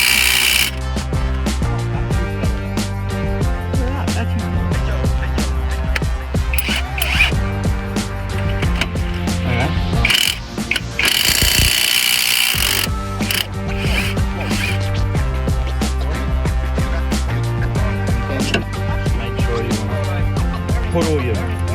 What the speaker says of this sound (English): So I'm just going to go ahead and pull off this tie rod in